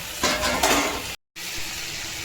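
Large pieces of eggplant go into a curry frying in a pan, giving a broad hissing sizzle with some stirring and a brief silent gap midway; no one speaks.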